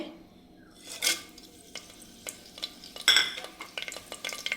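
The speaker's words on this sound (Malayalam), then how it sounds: "വെളിച്ചെണ്ണ ഒരു രണ്ട് സ്പൂണ് ചേർത്ത് കൊടുത്തിട്ടുണ്ട് അതിലേക്ക് ഞാൻ സ്പൈസസ് ഇട്ട് കൊടുക്കുകയാണ്" Whole spices sizzle in a couple of spoons of hot coconut oil in a pressure cooker, a soft close hiss broken by scraping stirs and a few louder clinks and crackles.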